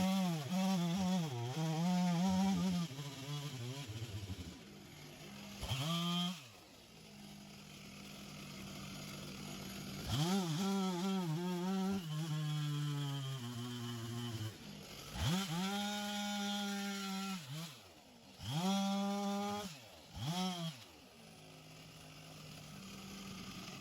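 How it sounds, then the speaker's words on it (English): Close and loud, a chainsaw cuts up a fallen tree that was pulled down by a John Deere 333G. The engine surges and bogs in repeated bursts as it bites into the wood, then drops back to idle between cuts. "made quick work of it with the chainsaw"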